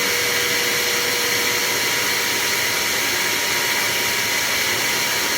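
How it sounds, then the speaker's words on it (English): A HAUSHOF 4-gallon wet/dry upholstery vacuum cleaner runs nearby, a loud, constant high-pitched whine and rushing airflow without pause, with no talking. "You hear the vacuum sound."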